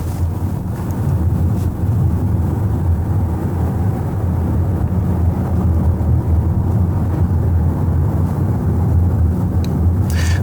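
Road noise inside the cabin of a 2025 Denza Z9 GT driving at about 50 km/h while other cars overtake, a steady low rumble and wind hiss that continues evenly without talk.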